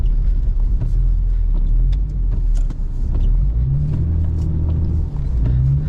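A BMW E39 sedan drifts through a snowy blizzard, its engine rumbling loudly and steadily from inside the cabin with rising and falling revs.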